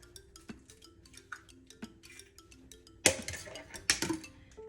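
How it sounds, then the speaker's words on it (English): Three eggs being cracked against a bowl rim for yellow cake mix in a home kitchen, with light clinks early and two sharp, louder cracking knocks near the end. "We are going to add 3 eggs."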